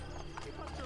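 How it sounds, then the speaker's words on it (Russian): Horse hooves clip-clop in the Assassin's Creed Brotherhood video game, a quick, steady run of hoofbeats lasting under a second over a busy game soundscape. "Лошадь давай угоним."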